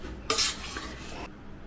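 Cooked donne biryani is mixed in a pot with a short scraping stir, one brief rustling burst of rice and metal lasting about a second, close, with no voices.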